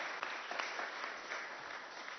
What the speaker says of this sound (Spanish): Desde aquí le damos un aplauso a ustedes